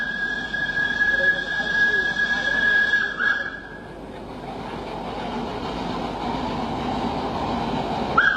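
An old tram runs on rails in Surabaya, a rumbling, rattling roll with a high squeal of wheels that fades midway, while a narrator talks over the sound.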